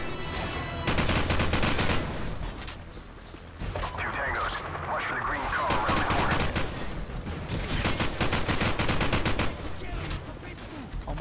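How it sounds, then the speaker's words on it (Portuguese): Rapid bursts of gunfire in the video game Call of Duty 4: Modern Warfare crackle almost nonstop, sharp volleys close by, with a voice talking over parts of it. "Recarrega, dá uns tiros aqui no meio."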